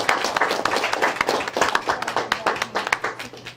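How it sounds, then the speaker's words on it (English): Attendees at a school board of education public business meeting give a round of applause, a close, lively stretch of distinct hand claps with an uneven rhythm, a few voices and a low hum beneath. "I think we should give her a round of applause"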